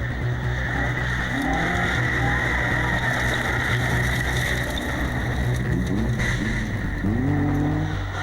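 Rally car engine revving hard and loud on a rally stage, with sustained roaring and shifting pitch, tire noise and skidding throughout, no voices.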